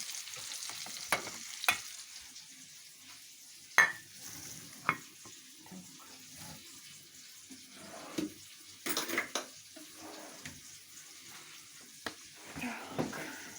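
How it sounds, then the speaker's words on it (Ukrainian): Battered flounder frying in a pan, a soft continuous sizzle with occasional scrapes and clinks of a utensil, quiet and close. "нехай вона прожарюється"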